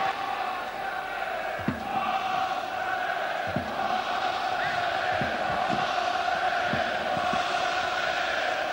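A football stadium crowd cheering and chanting, a steady broad roar with sustained tonal chanting and a few louder shouts, distant and continuous with no commentary over it.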